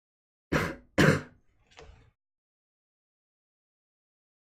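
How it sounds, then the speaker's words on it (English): In a video game, two sharp coughs in quick succession, then a softer, raspier cough, all close and isolated against silence. "I collapse on my knees and cough."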